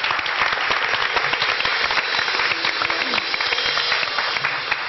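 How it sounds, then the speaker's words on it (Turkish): Studio audience applause for the orchestra on a television music show, a dense, even burst of many hands clapping that holds steady without talk. "Orkestramıza da bir alkış."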